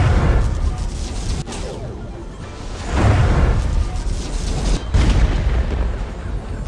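A homing fireball spell explodes in a wand-dueling VR game on Oculus Quest: loud, rumbling blasts that swell around the third and fifth seconds over continuous booming roar.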